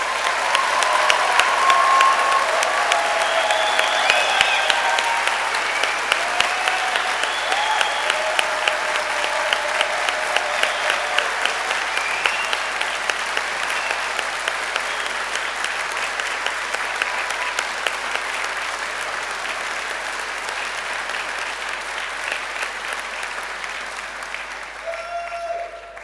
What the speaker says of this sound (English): Let's start by giving the graduates another huge round of applause